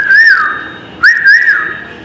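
Two loud, close whistles produced without fingers, each a bright sustained tone that rises and then bends downward, separated by a short pause, with no talk.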